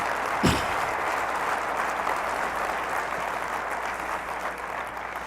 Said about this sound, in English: I think they deserve a round of applause as we start our meeting